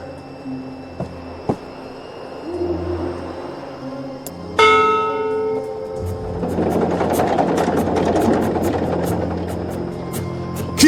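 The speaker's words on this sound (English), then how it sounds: "this is a ship's bell. They use this to signal the crew when a load of cargo's ready to be hoisted up." A ship's bell aboard a Cloudship in the video game Dreamfall Chapters strikes once, bright and ringing, with its tone decaying slowly over a low ambient game hum and rumble.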